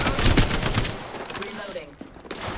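Apex Legends gunfire hitting an enemy shield, with rapid automatic bursts up close at first, then thinning into scattered shots and metallic impacts under faint game voice lines.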